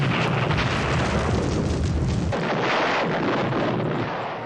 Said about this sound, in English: Also ever-present were artillery bombardments